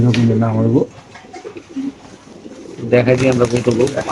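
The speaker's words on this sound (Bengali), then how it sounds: "এখানে আছে আরেক জোড়া কবুতর" Racer pigeons coo in a loft or market setting, with bursts of throaty rolling coos at the start and again near the end, close and clear, while people talk nearby.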